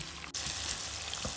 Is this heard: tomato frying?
yes